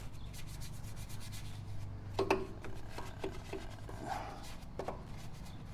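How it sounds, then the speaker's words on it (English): A brush scrubs brake dust off BMW brake calipers, soft repeated rubbing strokes with a few light clicks and knocks, close and fairly quiet over a steady background hum. "Just so you don't scratch anything on your calipers, I use a different brush."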